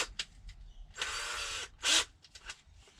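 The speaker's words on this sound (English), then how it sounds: "What I'm going to do now is put a little hole in it, and I'm going to rivet it." Small drill boring a rivet hole in a pole, short bursts of whirring with a longer run and a sharp final spurt, close and fairly quiet, no talking.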